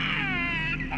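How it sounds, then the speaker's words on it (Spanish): A child's high wailing cry, steady and close, fills the whole second with sustained rising tones. "Era el llanto de un niño."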